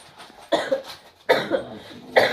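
Three harsh coughs, spaced apart and fairly close, with a short pause between each.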